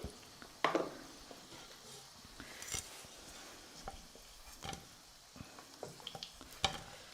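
Gram-flour battered cauliflower fries in hot oil with a soft, steady sizzle, while a utensil stirs and clinks against the pan in brief, sharp clatters.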